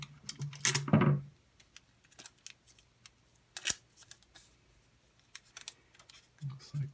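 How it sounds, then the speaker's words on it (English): Tape is pulled and pressed around a straw tube to hold it closed, making a few close, sharp crackles and tearing sounds amid light handling clicks, with brief faint voices. "I'm going to take my tape and hold it closed."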